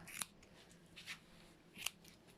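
Scissors snip at a Sproodle dog's face during a home trim, giving three short, crisp cuts spaced about a second apart, close and fairly quiet with no talking.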